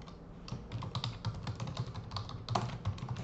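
Rapid key presses on a computer keyboard as a username and password are typed in to sign in, a steady run of close, crisp clicks with no talking.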